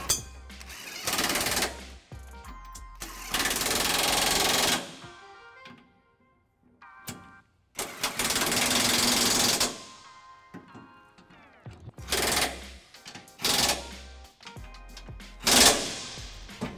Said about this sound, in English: take our impact and a 19 millimeter socket with a 5-inch extension and just snug